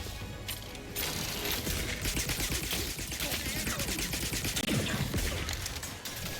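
Enemy gunfire in The Outer Worlds 2, a dense, continuous barrage of rapid shots crowding the whole clip at steady loudness, with mechanical clatter mixed in and no pauses.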